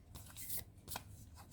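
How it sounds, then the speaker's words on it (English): Large, stiff tarot cards being shuffled by hand, clumsily and very quietly: a few soft papery riffles and flutters in uneven bursts, close up with no talking. "I am very clumsily shuffling these cards."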